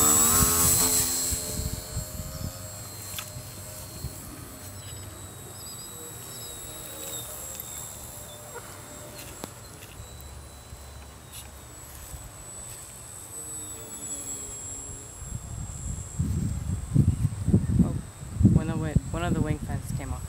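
A Gee Bee model airplane flies, a faint distant motor whine over wind and rustling that rises to louder buzzing passes near the end, while people talk throughout.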